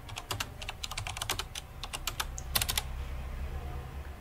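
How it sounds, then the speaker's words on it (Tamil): Typing on a computer keyboard while searching for AI images: a quick, uneven run of close key clicks, with a tight burst of presses near the middle and then a short pause, heard alone over a low hum. "ஏஐ சொல்லிட்டு டைப் பண்ணணும்."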